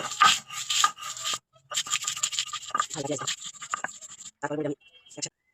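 Chili is ground with salt into a paste by hand on a grinding stone, making steady rhythmic rasping and scraping strokes in short bursts with brief pauses, close up, while someone talks over the work.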